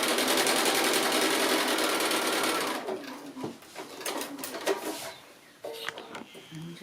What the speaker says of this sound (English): So I'm just sewing the last side of the surround on.